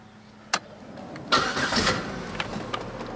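A 2007 Buick Lucerne with a 3.8 engine, under diagnosis for crankshaft position sensor stalling, clicks once, then cranks briefly and catches. It settles into a close, steady idle with faint ticks and no speech.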